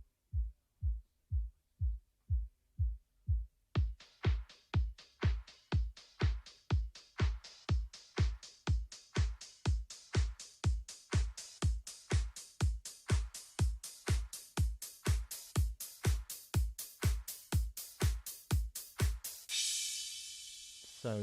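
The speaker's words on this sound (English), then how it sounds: "which is basically all the drums recorded and then filtered, put through a filter process" Recorded drums run through a filter, giving a steady pulse of deep thumping hits that starts muffled and low, then opens into brighter full-range beats, ending in a noisy swell.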